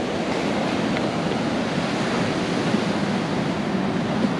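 Waves washing onto a sandy cove in Cornwall, a continuous broad rushing surf with wind, steady and fairly loud without distinct breaks.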